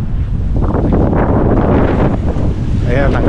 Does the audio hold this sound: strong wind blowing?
yes